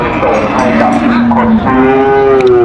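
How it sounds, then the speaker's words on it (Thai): Cattle moo loudly and repeatedly at a Thai livestock market stocked with Charolais, Brahman and Angus breeds, long drawn-out calls rising over a constant crowd and yard din. "วัวเยอะมากวัวเยอะมากครับ"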